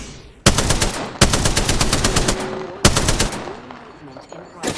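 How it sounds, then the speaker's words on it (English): Rapid automatic gunfire in a video game, loud bursts of repeated shots breaking out three times with short pauses between, alongside in-game effects, with no talk. "Getting shot at!"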